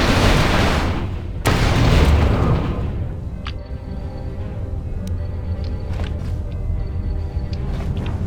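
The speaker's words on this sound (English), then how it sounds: "Let's throw a grenade." A grenade blast in the game KOTOR II: The Sith Lords bursts loudly early on, a heavy boom that rolls off into a long rumbling decay with faint sharp clicks and tones afterward.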